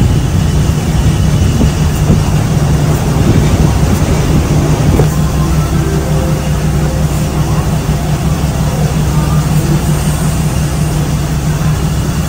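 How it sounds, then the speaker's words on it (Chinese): A train pulls into Maha Chai station, the railway terminus where the tracks run through the middle of a road and market in Bangkok. A steady, loud rumble of rolling railcars continues throughout, close by, with faint voices in the background. "到站，火车是停在马路中间。"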